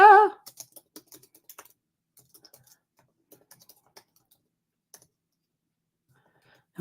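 Light, sporadic typing on a computer keyboard produces soft, irregular clicks in small bursts, with a brief voice at the start and end.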